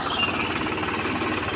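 A tractor engine runs over a mung bean crop to thresh it, a loud, close, steady chugging rumble with a rapid rhythmic knock.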